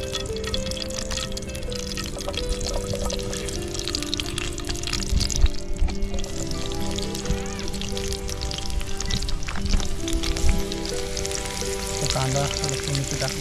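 Chopped garlic sizzles in hot oil in a pan at a family beach cookout, a steady dense crackle with occasional pops and stirring, continuous and fairly close, with faint background noise.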